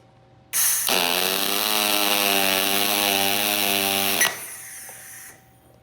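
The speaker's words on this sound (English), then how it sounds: "So the plan is to weld like the top, maybe 1/2 inch first." A spool gun lays a continuous bead on metal, starting with a top tack about half an inch long before filling from the bottom; one steady, loud, crackling buzz runs for roughly three and a half seconds, then cuts off abruptly.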